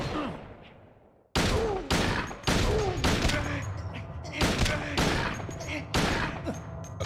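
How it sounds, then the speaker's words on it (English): Pistol shots in the video game Silent Hill 2 crack out loud and close, about seven sharp reports spaced roughly half a second to a second apart, each trailing into echoing game ambience. "I'm gonna try to stun lock him with the pistol."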